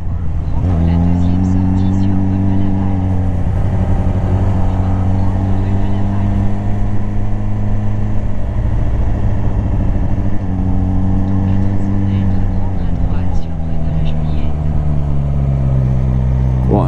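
A Suzuki GSX-R motorcycle riding along roads near Marseille, its engine droning loud and close with rising and falling revs as it accelerates and shifts, a steady ride heard with speech tagged faintly beneath.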